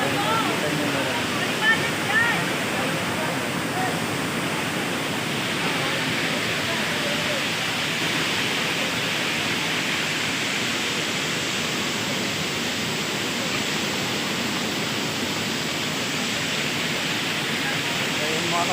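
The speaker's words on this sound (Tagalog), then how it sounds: "Ayan yung falls mga buddy." A waterfall at the secret falls in Dona Remedios Trinidad, Bulacan, roars as a steady, even rush of water that holds nearby at a constant level throughout.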